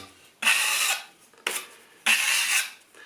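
Bartoline plaster skim being worked into a small crack in an internal wall, three rough scraping strokes of about half a second each with short pauses between, close and moderately loud.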